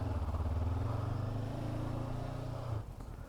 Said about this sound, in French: Allez, je vais vous faire un petit départ 0